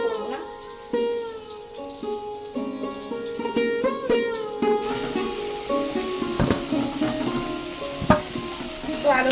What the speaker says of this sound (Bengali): আলুগুলো ভেজে নিয়েছি আর আলুগুলো তুলে নিচ্ছি